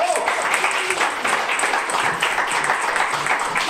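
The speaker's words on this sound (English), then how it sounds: "let's give them a round of applause" An audience at a book launch applauds with dense, steady clapping that holds at an even level for a few seconds, with some speech mixed in.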